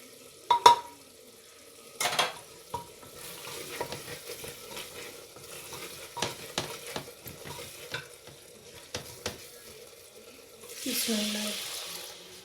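Spoon scraping and clinking in a pot of black chana curry, then near the end a glass of water is poured into the hot ghee masala with a brief rushing hiss and bubbling sizzle.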